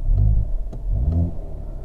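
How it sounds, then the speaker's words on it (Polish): Hyundai Kona N exhaust in N mode, a deep close rumble that swells twice over a couple of seconds, with no voices. "To nie jest głośnik, tylko to jest ten wydech"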